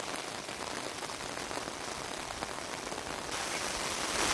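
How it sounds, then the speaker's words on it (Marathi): Heavy monsoon rain pours in the Konkan coastal region, a dense, even hiss that is loud and close, with no voices, swelling slightly stronger toward the end. "कोकणाला पाऊस अक्षरशः झोडपून काढताना पाहायला मिळतो आहे"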